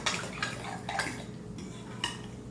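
Fork or whisk beating a wet egg mixture in a bowl, soft clinks and scraping taps against the bowl at a loose rhythm, quiet and close, with no voices.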